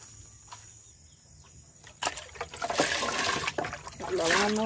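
Water pours and splashes steadily while a bird's water container is washed, starting after a quiet stretch, fairly close and continuing to the end under faint background noise.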